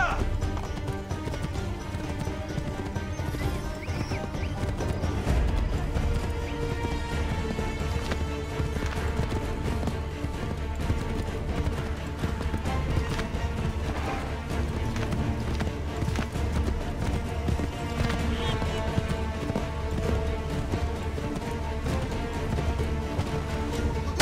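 Rhythmic clip-clop of galloping horse hooves in the video game Assassin's Creed III runs throughout over a busy bed of music and game sounds, with occasional whinnies.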